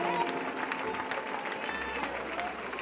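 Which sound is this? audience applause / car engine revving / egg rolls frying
audience applause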